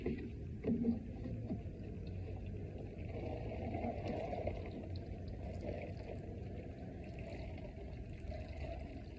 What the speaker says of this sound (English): I'll put some water in there.